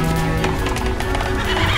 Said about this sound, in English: I'll get the horses.